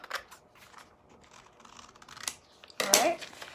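Scissors snip through a sheet of vintage sheet music paper, cutting it in half: a few soft, crisp close-up cuts, then a louder, longer rasping slice near the end.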